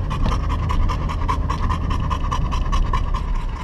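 A dog pants rapidly and steadily, close by, with quick rhythmic breaths continuing throughout and no talking.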